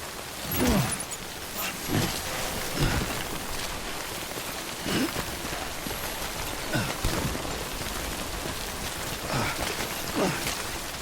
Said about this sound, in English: How am I supposed to get out of the rain?